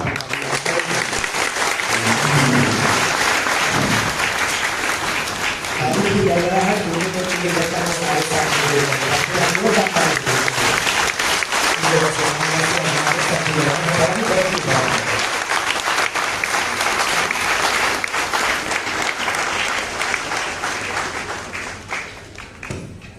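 A crowd at a gathering on the Sarna religion at the Constitution Club of India applauds steadily for over twenty seconds, the clapping continuous and close while a voice speaks through the middle, then fades at the end.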